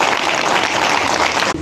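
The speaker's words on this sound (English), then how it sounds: "so let's give them a round of applause" An audience applauds panelists, a brief, dense burst of clapping that stays loud throughout and then cuts off abruptly.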